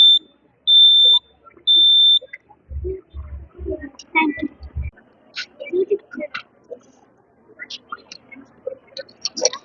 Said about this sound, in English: The buzzer will detect the sound and alert us that rain has been detected.